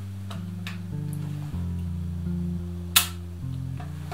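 A Speed Graphic press camera shutter fires once, a single sharp, crisp click over a steady musical background.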